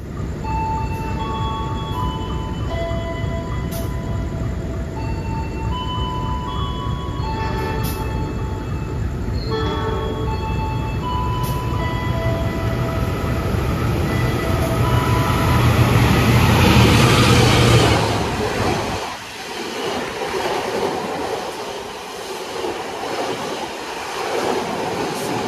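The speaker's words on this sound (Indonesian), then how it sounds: "Sebentar lagi kereta api Sembrani akan melintas langsung teman-teman" The Sembrani passenger train rumbles past loudly and close, a long rolling roar with wheel clatter that swells, then drops away.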